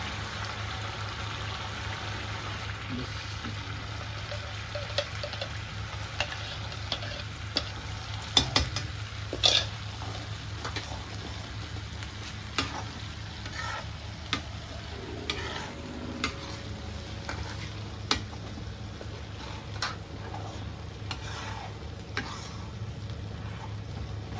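Chole masala frying in a pan while tomato puree goes in, with steady sizzling and scattered scraping stir strokes across a constant low hum, moderately close and without talk.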